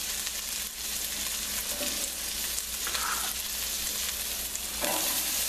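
Chorizo frying in hot olive oil for a shrimp and corn chowder, a steady dense sizzle and crackle filling the clip, with occasional stirring scrapes over it and no talking.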